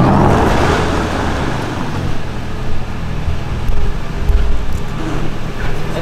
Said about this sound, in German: Ab 2021 ist das ein Muss, dass so Elektrofahrzeuge Geräusche machen müssen